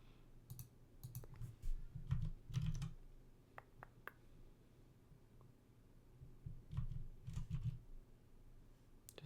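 Fingers type on a computer keyboard in quiet bursts of clicking keystrokes with short pauses between runs, over a low background hum.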